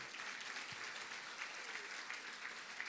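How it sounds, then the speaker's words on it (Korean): Steady applause from an audience in a room at an Atomy success seminar, a dense even patter of many hands clapping without a break, moderately distant and alone. "silakan tepuk tangan katanya"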